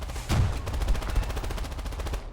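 Rapid machine-gun fire from a Chinese A6M2 fighter plane in the air-combat game War Thunder, a steady fast rattle of regular bursts that carries through the whole stretch, loud and close, with no talk over it.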